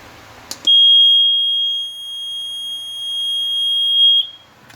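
A water leak alarm triggered by its sensor touching water beside a fridge emits a loud, steady, piercing high beep that holds continuously for several seconds before cutting off.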